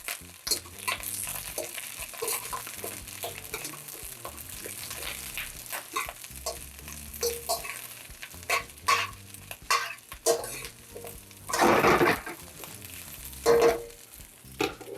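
Brussels sprouts are stirred in hot oil with steady scraping and sizzling throughout, broken by a few louder clattering stirs near the end.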